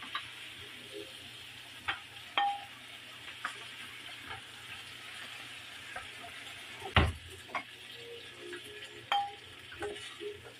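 A spatula stirs ginisang sayote with pork and beans in a pan, scraping and clinking now and then over a soft, steady sizzle, with one louder knock against the pan partway through.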